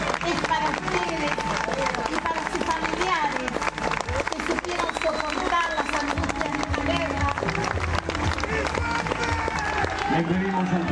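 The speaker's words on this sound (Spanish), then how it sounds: "Este aplauso es para ustedes." A crowd at a tribute to Falklands War veterans claps amid crowd noise and a busy mix of tones, with the applause running steadily under the other sound for the whole stretch.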